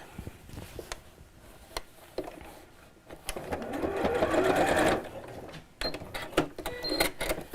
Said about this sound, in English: And I'm just going to sew across the top of here, again within the seam allowance